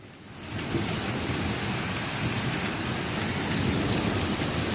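Hail from a thunderstorm pounds down with rain in a dense, steady roar. The noise swells within the first second and then holds loud and unbroken.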